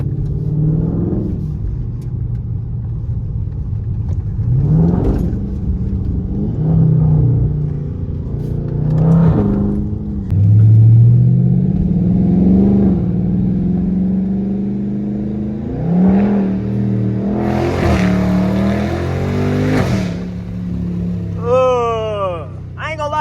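A 2023 widebody Dodge Charger Scat Pack with a mid-muffler exhaust revs and pulls hard from the cabin, its engine note climbing and dropping in repeated surges beneath steady conversation from occupants.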